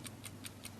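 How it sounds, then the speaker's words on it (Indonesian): A table clock sits at the end of a table in a quiet room, its mechanism ticking in a steady, even rhythm of faint, crisp clicks about five times in under a second. "coba dengarkan detak jam tersebut"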